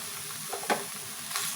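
Grated ginger and garlic frying with lightly browned onions in a pan for fish kachori, a soft steady sizzle with a few brief stirring scrapes and clinks.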